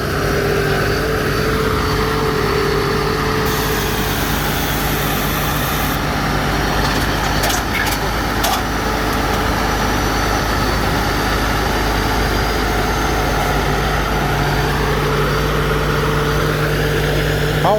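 A new Sombun Phatthana combine harvester in Buriram, Thailand, revs at full power with its header raised, giving a loud, steady, deep engine roar with a droning hum that holds throughout, nearby and without talk.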